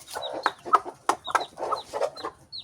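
A brooding hen gives low, repeated clucks at close range while her newly hatched chicks peep in short, high chirps between them.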